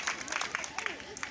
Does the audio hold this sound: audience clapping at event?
yes